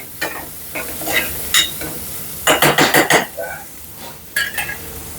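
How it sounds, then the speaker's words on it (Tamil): Turmeric is fried and stirred in a pan for a tinned fish curry. Loud metal scrapes and clanks come in bursts, including a quick rhythmic run of strokes, over a sizzling background. "நம்ம ராஜன் மஞ்சளை போட்டு நல்லா மஞ்சளை வறுத்து"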